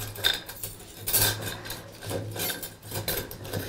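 Plates and spoons clatter and scrape in short bursts, with a low steady hum underneath; no talking.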